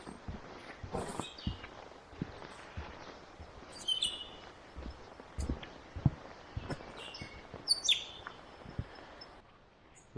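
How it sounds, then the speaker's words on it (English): Birdsong at dawn along the Overland Track in wilderness, scattered faint chirps and short calls at a distance, mixed with nearby footsteps on the trail, fairly quiet overall. "I wanted to get on the trail early so I could listen to the birds wake up."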